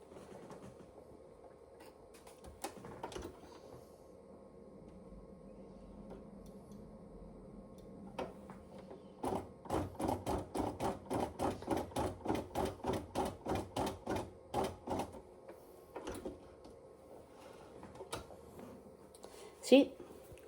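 A sewing machine stitches straight across the corner of a fabric thread catcher box. A fast, even run of mechanical ticks lasts several seconds over a faint background hum.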